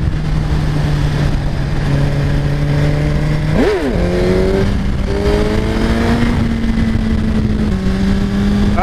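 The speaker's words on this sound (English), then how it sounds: "wheeling my bike" A 2017 Suzuki GSX-R1000 sport bike revs hard during a wheelie, its engine note climbing in rising harmonic sweeps with a sharp blip midway. The sound stays loud and continuous throughout, with no talking.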